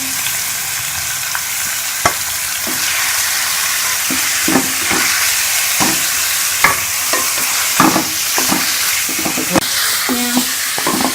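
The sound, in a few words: mutton frying in a pan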